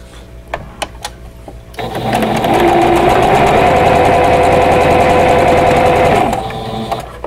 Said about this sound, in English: I'm going to sew the other row